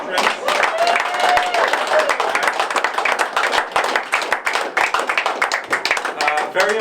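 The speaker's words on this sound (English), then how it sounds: "Round of applause for the veterans." Loud, sustained applause and clapping from a crowd at a Rotary gathering as veterans stand to be honored, with voices and cheering mixed in throughout.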